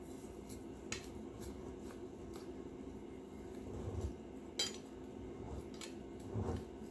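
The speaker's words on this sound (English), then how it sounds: "I am just taking my knife, going through it" A knife works through fire cider ingredients packed in a jar, giving soft scraping, squishing and occasional clinks against the glass, close and steady with a few sharper taps.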